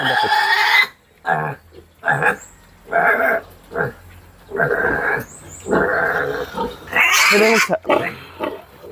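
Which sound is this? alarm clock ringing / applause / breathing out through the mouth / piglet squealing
piglet squealing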